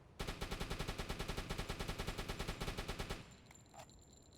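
Rapid automatic bursts from a U-boat deck gun firing at a corvette in a submarine video game, about two dozen evenly spaced loud shots over three seconds, then a quiet tail with a faint thud.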